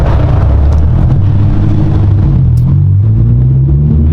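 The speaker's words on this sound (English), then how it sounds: "The drone is louder than the actual acceleration." A steady low exhaust drone fills the cabin of a lowered Honda S2000, rumbling continuously with a slight rise in pitch as the engine pulls.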